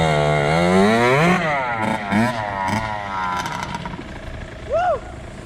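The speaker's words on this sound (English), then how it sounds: "like if you ever rode a dirt bike in the fucking snow" Kawasaki KX60 dirt bike engine revving up and down while riding through snow, a buzzing tone rising and falling with several throttle blips, close and loud, with brief shouting near the end.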